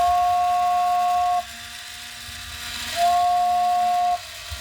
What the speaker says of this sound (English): another tip, is turn off this whistle every now and then